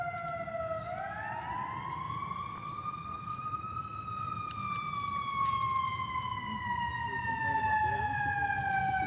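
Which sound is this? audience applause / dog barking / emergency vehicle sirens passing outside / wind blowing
emergency vehicle sirens passing outside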